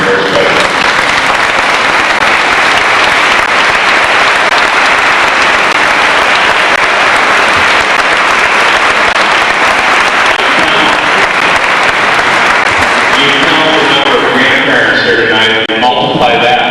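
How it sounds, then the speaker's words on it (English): A large audience at an eighth-grade graduation claps loudly and continuously for grandparents, a dense sustained wave of applause that thins out near the end as a voice comes in. "I'd like to give these people a round of applause because grandparents are very special"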